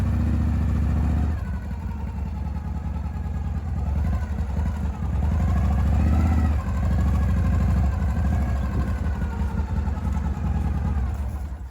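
Motorcycle engine running steadily up a gravel driveway, loud and close throughout, with the pitch rising and falling as the rider works the throttle.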